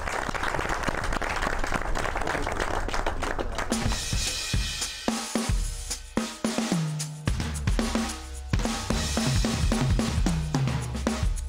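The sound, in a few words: audience applause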